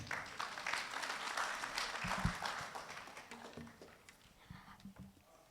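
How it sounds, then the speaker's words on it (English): A seated audience applauds to welcome someone speaker at an International Day of the Family event, a faint, distant wash of clapping that fades over several seconds with a few thuds and a low voice near the end. "Let's welcome her with a clap."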